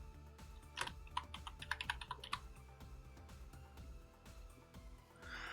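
Keystrokes on a computer keyboard while entering a caption in Lazarus programming software, a quick cluster of faint clicks early on followed by sparser taps, quiet and close.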